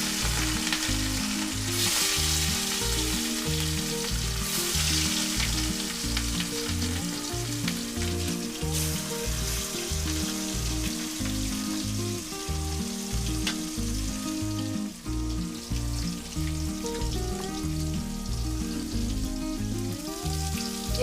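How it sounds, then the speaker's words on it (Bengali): Pieces of rohu fish fry in hot oil in a pan, giving a loud, steady sizzle and crackle with bubbling that runs unbroken throughout, no voices. "এখানে তেল গরম হয়ে গেছে আস্তে আস্তে মাছগুলো দিয়ে দেবো"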